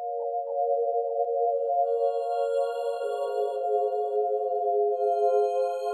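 A clean synthesizer tone plays sustained, pure-sounding notes with a soft higher layer fading in, dry and steady, without any other sounds.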